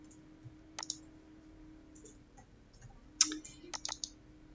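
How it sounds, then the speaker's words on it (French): Computer mouse clicking during a right-click and copy in embroidery software, a few sharp, close, quiet clicks, some single and some in quick pairs, over a faint steady hum. "je clique droit, copier, hop, copier"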